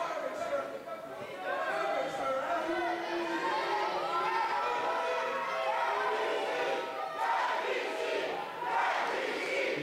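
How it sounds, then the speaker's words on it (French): A wrestling crowd at a local event chants at a wrestler called Gorgeous Mike, a steady rhythmic roar of many voices filling a hall, loud and sustained throughout. "la foule qui scande calvitie à Gorgeous Mike"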